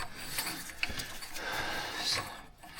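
A small 3/8-inch ratchet handle clicks on front differential bolts of a Nissan D21 Navara 4x4 with a TD27T engine, giving close, irregular mechanical ratcheting and scraping metal sounds.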